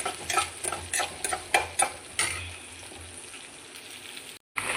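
Onions, garlic and green chillies fry in a pan for tomato pappu, with a soft background sizzle broken by several sharp spoon scrapes and clacks, then a brief cut to silence.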